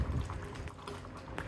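A pot of spinach and black chickpea stew simmers and bubbles steadily with soft popping and gurgling, quiet and close, with no voices.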